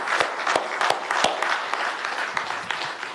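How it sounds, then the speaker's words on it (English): An audience at an Orange County COVID-19 press briefing claps for a group, a steady round of applause with a few sharp, close hand claps standing out above the general patter. "giving this group a round of applause for that effort"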